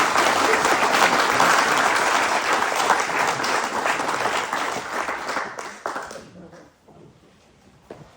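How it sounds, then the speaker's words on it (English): A dense burst of audience applause for a speaker, loud and sustained, thinning out toward the end as the clapping dies away into near quiet. "let's give him a round of applause"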